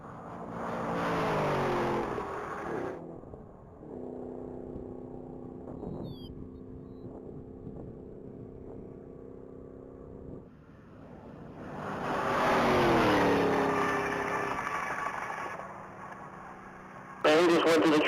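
A 2014 Shelby GT 500 at the Texas Mile top speed event, engine roaring loud at first, dropping to a distant drone, then swelling again as it passes; a voice talks over part of it.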